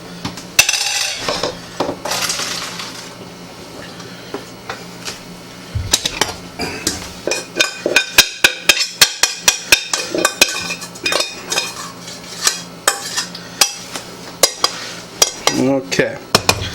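Pasta for chili mac is dumped into a strainer in a kitchen sink, giving a rush of pouring water and steam followed by a run of sharp metal clanks and clinks of pot against strainer, with no talk.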